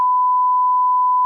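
A steady pure censor bleep covers a cuss word on a podcast, a single loud continuous tone lasting just over a second.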